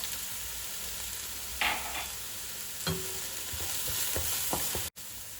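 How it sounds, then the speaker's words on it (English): Chopped chilies tipped into onions frying in a pan for a Persian khoresh, a steady sizzle broken by a burst as they hit the oil, then scraping stirs and a few clacks, no talking. "Now she's going to add the 2 chopped chilies."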